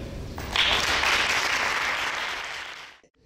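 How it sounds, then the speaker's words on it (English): An audience at an award ceremony breaks into a dense, steady wash of applause that builds quickly, holds for about two and a half seconds, then stops abruptly. "Let's give a round of applause"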